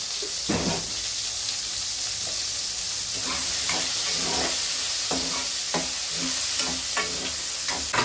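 Soya chunks fry in a pan with a loud, continuous sizzle, while repeated scraping stirs cut through the hiss at a steady rhythm; no one speaks.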